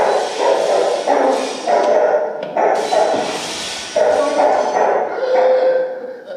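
A dog barks repeatedly in an indoor setting, a series of loud, close yaps and bow-wows in quick bursts with brief pauses, with a faint voice now and then in the background.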